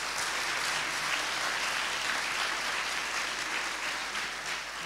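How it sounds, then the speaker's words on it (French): Sustained applause from an audience at a philosophy talk on generosity and health, a dense steady wash of many clapping hands that holds at an even level throughout. "On peut les applaudir, d'ailleurs."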